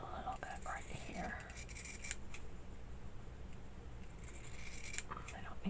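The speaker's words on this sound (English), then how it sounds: "I'm going to go ahead and cut that across" Scissors cut across paper for a slow stitching book, with soft close snips and rustling under whispered speech throughout.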